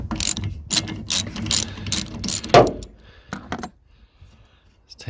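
A 15mm socket ratchet clicks in quick bursts while loosening the wiper arm nuts on a Ford Focus ST, close and fairly loud, followed by a few scattered clanks and handling noises.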